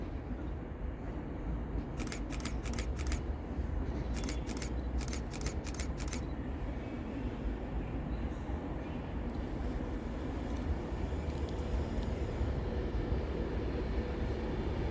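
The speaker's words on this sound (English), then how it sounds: "Pulling in here, we have an Avante, just off to London Euston." An Avanti West Coast Pendolino train pulls into Stafford station on the West Coast Main Line, bound for London Euston. Its steady rumble fills the platform for the whole stretch, with brief clattering bursts partway through and no voices.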